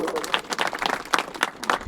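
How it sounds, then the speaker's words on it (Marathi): Gathered devotees at a Shri Dattatreya birth festival clap scattered and uneven, with individual hand claps standing out from a loose crowd as a voice talks over them. "आपण टाळ्या वाजवा मंडळी"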